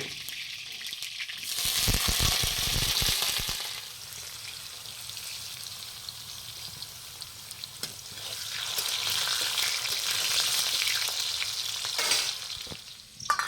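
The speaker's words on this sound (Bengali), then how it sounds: "প্রথমে আমরা সর্ষের তেল দিয়ে আলুগুলিকে ভেজে নেব।" Potatoes fry in mustard oil on a village clay stove. The close, continuous sizzle swells and eases in waves, with no talking.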